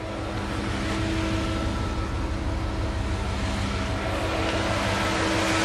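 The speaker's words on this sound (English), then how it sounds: "You hear the electric fan kicked on" A car's electric cooling fan whirs loudly beside the idling engine, a constant broadband rush with a low hum underneath, unchanging throughout.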